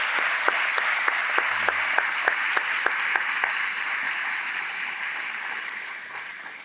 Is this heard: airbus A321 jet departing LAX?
no